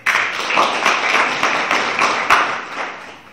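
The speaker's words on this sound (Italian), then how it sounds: "Un applauso" Audience applause at a school poetry event with high school students, a dense, steady, close burst of many hands clapping that fades slightly toward the end, with no talk over it.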